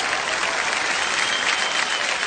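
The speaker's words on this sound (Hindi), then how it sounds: "तो जियो के लिए एक बार जोरदार तालियां हो जाएं।" Dense audience applause fills a comedy show stage, steady and loud throughout, with no talking over it.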